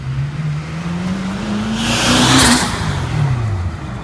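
A Toyota Soarer with a 2JZ-GTE twin-turbo engine on its first drive, its engine note rising steadily under acceleration to a loud peak with a rushing burst, then easing off briefly.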